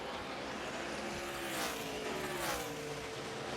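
NASCAR stock cars practicing at Dover, a continuous blurred roar of engines with a couple of cars swelling past, faint and distant.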